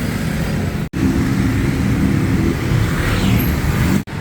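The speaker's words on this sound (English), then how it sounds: "A little bit of traffic, 7 o'clock in the morning" Morning road traffic in Huai Khwang, Bangkok, makes a steady, close, loud rumble of engines and tyres with no pauses, apart from two sharp breaks in the sound. Nobody speaks.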